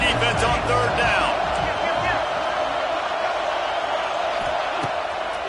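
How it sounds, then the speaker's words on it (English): Stadium crowd in a Madden football video game swelling with a steady roar of cheering on a third-down defensive stand, loud and continuous, with a commentator's voice talking over it. "Decibels rising as the crowd gets behind this defense on third down."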